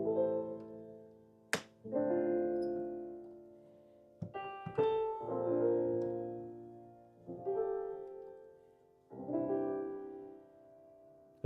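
Piano plays the opening line of a song with lush, full chords: a handful of rich, sustained chords struck one after another at a slow, gentle pace, each ringing out, with a brief sharp click early on.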